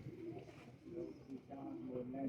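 Pigeons coo softly in low, repeated throaty phrases, the calls separated by short pauses and joined by someone talking nearby.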